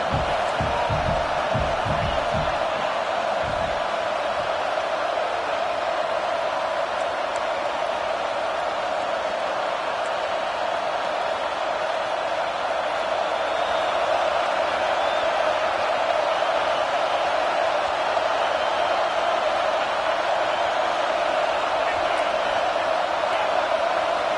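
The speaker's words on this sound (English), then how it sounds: "This crowd bringing the energy and noise early." A stadium crowd at a college football game against Iowa State roars continuously, a dense, loud wash of cheering and shouting that holds steady for the whole stretch, with brief thumps at the start.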